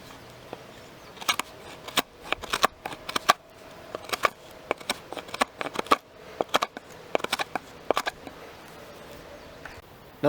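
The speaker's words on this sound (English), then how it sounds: "It's certainly beating up the knife, but it is cutting into this extremely hard wood" A serrated Mora Tactical SRT knife saws and hacks into extremely hard, dry wood, giving a long run of crisp, uneven scraping and cracking strokes, close and fairly loud, with no talk.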